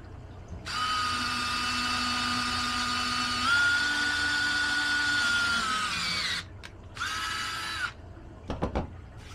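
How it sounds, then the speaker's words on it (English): A power drill boring a hole in the top of a PVC pipe for a DIY Matten aquarium filter, a steady high motor whine for about six seconds that dips in pitch under load, then a short second burst and a few clicks. "we're going to drill a hole in the top of it"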